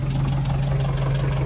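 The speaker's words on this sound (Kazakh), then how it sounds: "Мотор ходовой жакшы экен." A 1994 double-cab flatbed truck with a 4-litre engine idles steadily. Its deep, even rumble is loud and close, and no one speaks over it.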